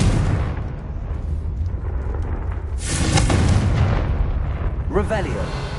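In Hogwarts Legacy, the Confringo fire spell's blast lands as a loud, dense, sustained booming roar, swelling toward the middle of the clip, with whooshing bursts and game voices mixed in.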